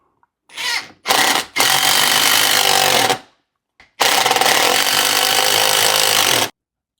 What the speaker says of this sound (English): The kit comes with a nut driver that's the right size for the lag screws that we have to put in.